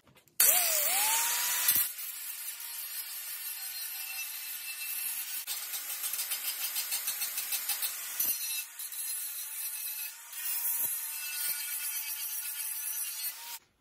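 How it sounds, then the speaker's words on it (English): An angle grinder works the metal of a .50 cal ammo can being made into a camp stove, a loud, steady high-pitched whine with a brief stop near the start and short dips and restarts, close and with no talk. "hit it with the angle grinder"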